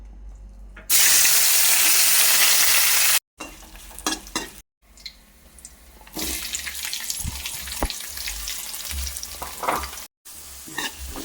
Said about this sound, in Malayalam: ചൂടായി കഴിയുമ്പോൾ ഇതിലേക്ക് ഇഞ്ചി വെളുത്തുള്ളി പച്ചമുളക് കറിവേപ്പില ഇട്ടുകൊടുക്കാം